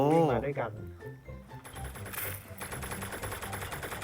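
Rapid gunfire crackles in the T3 Arena shooter game as dense, clattering bursts under excited talk, busiest in the second half.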